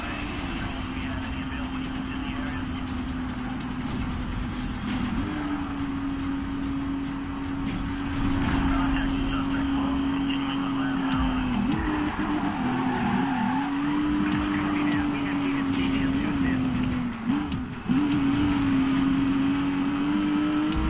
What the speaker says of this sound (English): Turbo boost going.